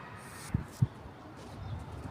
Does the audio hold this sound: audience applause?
no